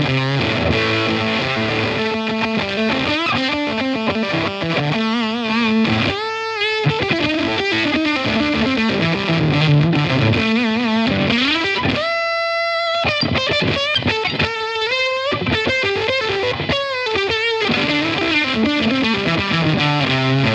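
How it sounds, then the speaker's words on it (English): An electric guitar played through a Cooltone Range Booster pedal with the gain pushed high gives thick, saturated silicon fuzz, with riffs and chords ringing in bursts, some held sustained notes and brief gaps between phrases. "this is where we should get some fat silicon style fuzz tones"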